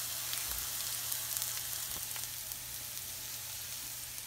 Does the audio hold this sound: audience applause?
no